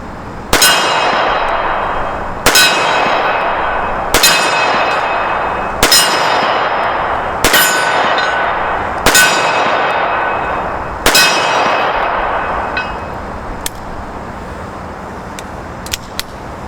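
Seven loud, sharp gunshots from a Colt 1908 pistol fired outdoors, evenly spaced about a second and a half apart, each with a ringing tail that decays before the next, followed by a few faint metallic clinks.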